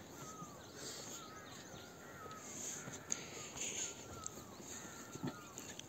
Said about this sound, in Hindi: ये आवाज़ कोयल की है?